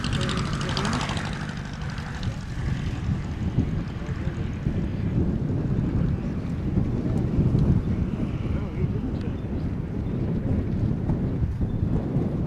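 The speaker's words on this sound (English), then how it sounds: "as you can hear and see, the wind picking up more and more as it goes on" Wind gusts batter the microphone in a low, continuous roar outside an aircraft museum hangar. It swells slightly over time, and faint voices sit under it.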